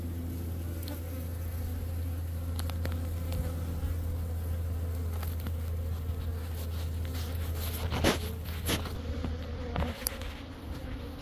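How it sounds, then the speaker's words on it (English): A steady, dense buzz of many honeybees on a hive frame fills the clip, with occasional louder passes of individual bees close by. "I'm gonna shake the bees off"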